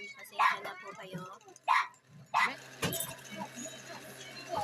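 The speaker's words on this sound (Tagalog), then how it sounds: "may tumatahol pa na aso" A dog barks a few times at moderate distance, sharp separate yelps spaced a second or so apart, over steady low background hum with a person talking in between.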